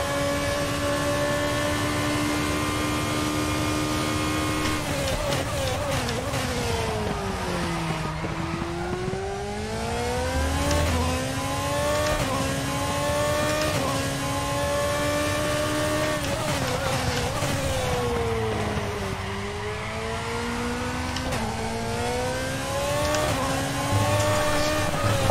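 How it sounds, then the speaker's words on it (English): A Formula 2 car in a racing game at the Hungaroring screams through high revs, dropping and climbing with each gearshift and corner, with tyre squeal mixed into the sustained, close engine wail. "enjoy the sounds of the Formula 2 at the Hungaroring. And probably a lot of tyre squeal as well"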